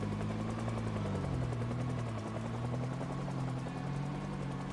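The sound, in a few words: helicopter flying overhead in Project Zomboid video game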